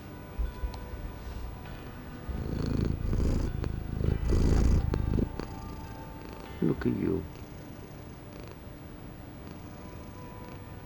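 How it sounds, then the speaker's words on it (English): Soft, close rumbling purr of a cat in bursts, with a quiet voice speaking briefly over it in a reverberant room. "Let's listen to you purring."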